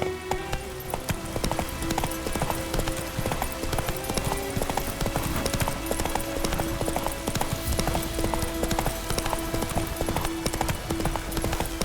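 Roach, the horse in the Witcher 3 video game, gallops with fast, steady clip-clop hoofbeats that run unbroken throughout, loud and close over a dense game soundtrack, no voices.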